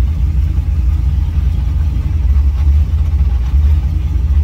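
A 1966 Chevy Nova Wagon engine runs with a steady, loud low rumble, the car pulling away under its own power without any revving peaks.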